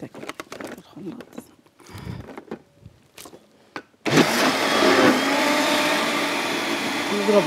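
A loud electric blender beating eggs starts abruptly partway through and runs steadily with a dense whirring roar, after quieter kitchen clatter and movement.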